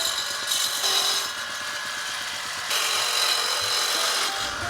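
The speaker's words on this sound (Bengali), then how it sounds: "তো চলুন দেখে নেই সেই অনন্য সৃষ্টি কিভাবে তৈরি করা হয় মাছ ধরার ঘুনি এই মেশিনের মাধ্যমে" A homemade machine works bamboo into strips for ghuni fish traps in Magura, Bangladesh, with a continuous rasping, grinding mechanical drone that swells and eases in two long passes, close and loud.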